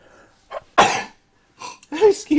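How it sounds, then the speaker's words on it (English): A single sharp, explosive sneeze bursts out close up, preceded by a short intake of breath and followed by someone talking. "The sneeze came out from nowhere."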